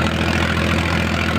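Steady, loud diesel throb from a Powertrac Euro 50 tractor engine running at a constant pace, heard up close with no speech.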